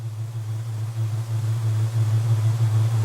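Steady, loud spaceship engine sound effect, a continuous deep humming drone with a slight rising swell and no pauses.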